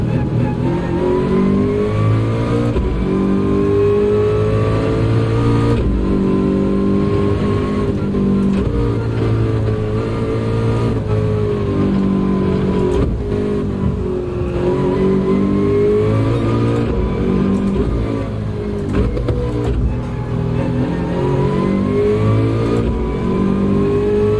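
Race car engine in Gran Turismo 7 GT3 racing, a steady loud drone that rises and falls through gear changes and revs across the whole stretch, continuous and close with no breaks.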